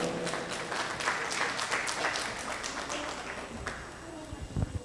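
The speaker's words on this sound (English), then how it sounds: "Let's give her a warm round of applause." Warm audience applause at a sustainability and culture roundtable, steady dense clapping filling the room for several seconds before thinning out near the end.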